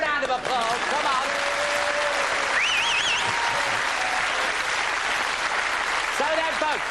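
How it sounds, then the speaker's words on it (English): A studio audience breaks into sustained, loud applause that fills the whole stretch, with a voice and some whistling tones layered over the clapping. "Give him a round of applause, come on."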